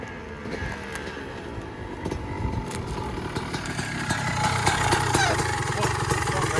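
Two-stroke engine of a 2003 Honda CR250 converted into a trike, running steadily at mid distance and building slightly louder toward the end, with a raspy buzzing drone.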